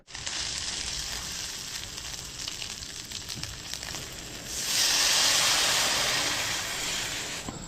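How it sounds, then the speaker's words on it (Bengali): Meat with ginger, garlic, onion, green chili, tomato and turmeric cooking in a pan, a continuous sizzling hiss that swells louder partway through, no voices. "তো এখন মাংসটা রান্না করা যাক"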